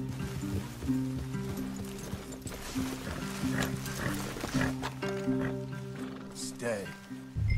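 Horses in Red Dead Redemption 2 clip-clop along with hoofbeats and snorts under a steady musical score, while characters talk over them.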